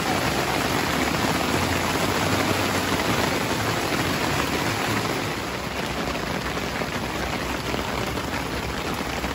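Steady rain falls outdoors in an even, dense hiss with no break, close and fairly loud, with no voices heard.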